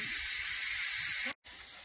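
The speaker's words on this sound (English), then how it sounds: "We'll remove that so it doesn't destroy my cabinet with steam. And we're just gonna let that all vent out." Steady, loud broadband hiss of an Instant Pot pressure cooker releasing steam through its vent while cooking spaghetti and meatballs, running continuously before cutting off abruptly near the end and resuming more softly.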